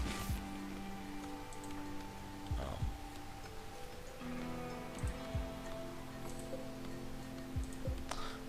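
Rain falling in RimWorld, a soft, steady patter of drops under a faint background tone, with a few sharper ticks scattered throughout.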